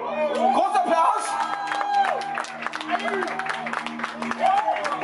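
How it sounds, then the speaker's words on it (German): A crowd at a live comedy show applauds and cheers, with steady clapping, scattered whoops and shouts running throughout and loud, rising at the end, while voices are heard over it. "Großer Applaus!"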